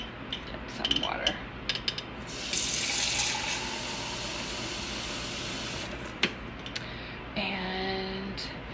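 Water runs from a tap into an office sink, a steady close hiss lasting several seconds, bracketed by clinks and knocks and a rising squeak as a container fills.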